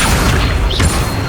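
In Hogwarts Legacy, the Accio summoning spell is cast as a short, loud booming whoosh over a dense rumble of game combat sound.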